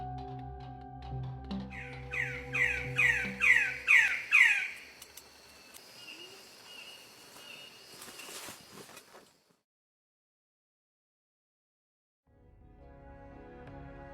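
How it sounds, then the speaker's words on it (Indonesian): A magnificent bird-of-paradise (Diphyllodes magnificus) of Papua gives a series of about seven loud, rising squawks in quick succession, then fainter calls trail off into silence before a soft background returns. "Itulah suara cendrawasih rotan,"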